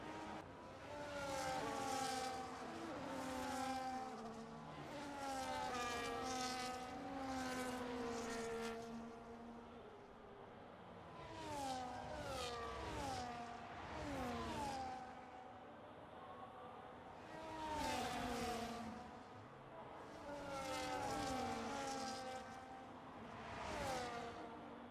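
Formula 1 cars in the video game F1 25, engines rising and falling in repeated high-revving passes, with several loud surges of gear-shifting whine, faint and without talk.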